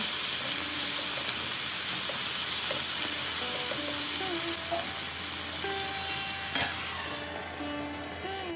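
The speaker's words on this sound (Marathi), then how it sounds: "हे सर्व पदार्थ तुपामध्ये परतून घ्या आता ह्यामध्ये एक मोठा चिरलेला बटाटा घाला हे बटाट्याचे काप छान परतून घ्या" Potato slices and peanuts fry in ghee in a pan, a steady close sizzle with occasional stirring scrapes and clinks for sabudana-potato dish, no talk.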